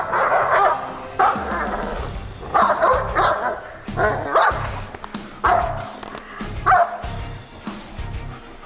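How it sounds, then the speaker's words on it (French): Belgian Malinois dog giving repeated high whimpers and yelps mixed with sharp barks, close and loud in irregular bursts over several seconds. "Les couinements, ça soulage"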